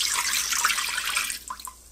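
Chicken broth poured into an Instant Pot Duo Evo Plus, a close, steady liquid splashing stream that tapers off into a few last drips.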